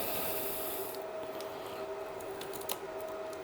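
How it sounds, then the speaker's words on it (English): A screwdriver pries at the lid of a battery pack, and the tape and glue slowly give way. There is a close, continuous scraping and rubbing with faint crackles and a few sharp ticks throughout. "I can hear the tape, I can hear the glue start like making sounds."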